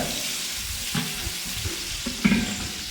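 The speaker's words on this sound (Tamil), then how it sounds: "வெங்காயத்தை சேர்த்துக்கிறேன் நம்ம வதக்கி விட்ட டைமில் நல்ல மனம் வருது நெய்யும் எண்ணெய் சேர்த்து விட்டுருக்கிறதுனால" Onions sautéing in a pan of ghee and oil give a steady, close sizzle, with a few soft scrapes and knocks from stirring over the frying hiss.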